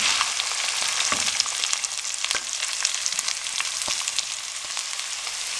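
Steady, crackling sizzle of finely chopped onions frying in a pan, with scattered sharp pops and the occasional scrape of stirring.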